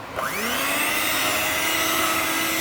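An electric beater whirs steadily and loudly while whipping a three-ingredient Tuticorin-style macaroon mixture until stiff, spinning up at the start and then holding a constant high-pitched drone.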